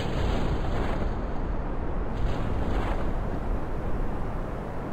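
A rocket motor and a parachute firing at the same moment in Kerbal Space Program: a loud, continuous roaring rumble that fills the whole clip steadily, close and dense, with no voices.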